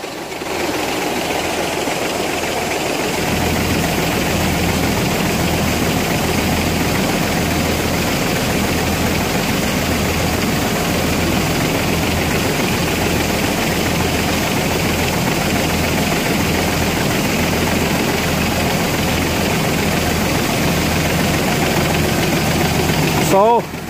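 An old tractor engine, about 30 years old, idles steadily and loudly, a low, throbbing, rhythmic chug that continues unchanged throughout.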